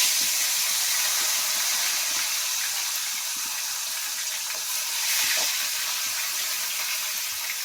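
Bata fish sizzling as they go into hot oil in a small wok, a steady broadband frying hiss throughout with faint crackles and small bumps, no talking.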